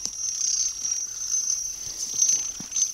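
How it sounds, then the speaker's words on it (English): Phone app playing a metal rainbow fidget spinner sound: a steady, thin, high whirring hum that flutters slightly and runs continuously throughout, with faint background noise and no talking. "that's my rainbow fidget spinner sound. It's like a metal one."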